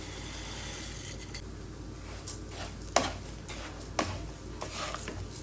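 Flattened rice (poha) being stirred in oil in a pan for aval mixture, a steady low sizzle with repeated spatula scrapes and a few sharper clinks, close and without talk.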